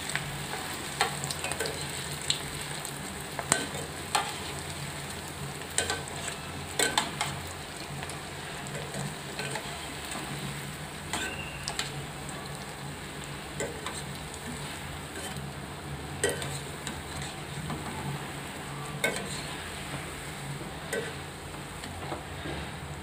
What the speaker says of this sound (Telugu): మనం ఇవన్నీ ఇలా డీప్ ఫ్రై చేసుకున్నాం కదా